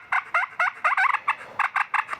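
Turkey box call scraped to imitate a gobble, a rapid series of about ten sharp, raspy yelping clucks in quick uneven rhythm, close and clear with no talking.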